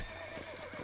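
A horse in Red Dead Redemption gives a brief, close whinny that lasts under a second.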